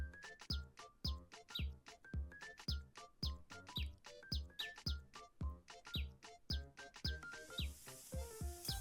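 Bright, repeated chirps from a blue wren in a cute video game, sounding in a steady rhythm of short tweets over a soft musical backing, loud and close with no talking.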